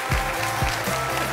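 A studio audience on a Spanish television show applauds briefly. The clapping wash is short and muffled, mixed with low rumbling room noise.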